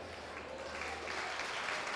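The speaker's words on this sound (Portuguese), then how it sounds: "vamos aplaudir mais ao nome do Senhor" A church congregation claps in a sustained, even wave of applause that swells slightly toward the end, with faint voices underneath.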